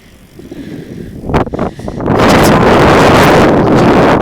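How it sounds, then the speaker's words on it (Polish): Strong wind buffets the microphone, starting softer with a few rustling knocks, then swelling into a loud, steady roaring blast that dominates everything. "znowu wiatr wieje."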